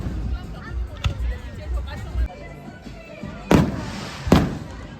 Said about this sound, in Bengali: আর এটা যেহেতু 4 জুলাইয়ের পরের উইকেন্ডটা, সেই জন্য এখানে ফায়ার ওয়ার্কস হচ্ছে।